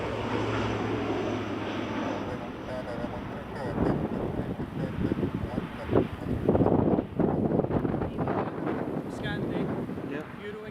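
A Qatar Airways airliner passes at Edinburgh Airport, its broad engine roar swelling and rumbling under gusty wind, with people talking over it.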